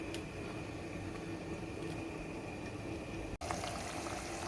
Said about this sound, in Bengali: আবারও ঢাকনা দিয়ে আমি কিছুক্ষণ রান্না করব ঝোলের মধ্যে মাছটা হওয়ার জন্য।